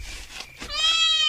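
A cat gives a single drawn-out, rising meow after a few soft scuffling sounds, close and fairly loud, with no speech over it.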